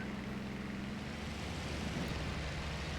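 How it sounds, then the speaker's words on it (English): Steady, droning aircraft engine in the IL-2 Sturmovik combat flight game, a continuous even roar with no talk over it. "What's the sound of the engine?"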